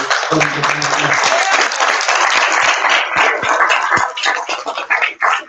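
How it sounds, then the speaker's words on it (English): An audience at a bookstore presentation claps loudly and steadily for several seconds, a dense wash of applause that thins into scattered claps near the end. "Can we please give just one more round of applause for"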